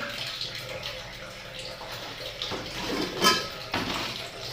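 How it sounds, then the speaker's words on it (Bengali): Tap water running into a sink while dishes are scrubbed and rinsed, a steady close splashing stream with clinks of pots and plates, and a voice speaking at times. "এই দেখো এতগুলো বাসন জল চলে এসছে কলে বাসন কটা মেজে গেলি"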